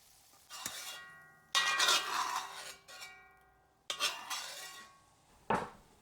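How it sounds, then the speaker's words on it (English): Cooked meat for a New England bread stuffing is moved into a metal bowl with a utensil, producing four distinct ringing metallic clanks and scrapes that each decay slowly, with no talking. "We move the cooked meat to a metal bowl"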